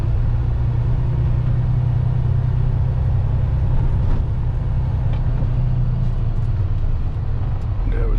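Big rig truck engine rumbling steadily while driving a manual-transmission truck, a loud low drone from inside the cab with road noise throughout.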